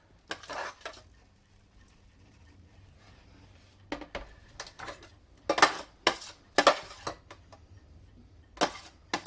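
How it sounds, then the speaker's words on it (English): Vegetables for red pepper soup tip into a medium 2-litre pan in several separate bursts of clattering and knocking, with quiet gaps between them, close but fairly soft. "put all of the veg into the pan"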